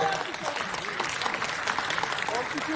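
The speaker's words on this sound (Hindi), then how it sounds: "तालियां बढ़ती रहनी चाहिए, हौसला बढ़ते रहना चाहिए।" Applause at a Hindi-language ceremony for Dr. Rajendra Prasad's birth anniversary and Advocates' Day, dense and steady throughout with voices mixed in.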